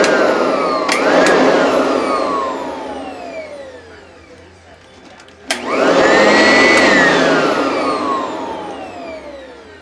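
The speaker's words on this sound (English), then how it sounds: "that little metal button right there, that's how you start the vacuum and shut it off" A Sanitaire SC899 commercial upright vacuum cleaner whines up to full speed, spins down and stops, then restarts with a click and a rising, loud motor howl, close by.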